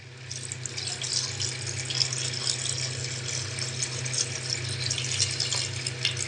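Water runs steadily into a pressure cooker in a home kitchen, a continuous close pouring rush with a low hum beneath it, heard alone without talk.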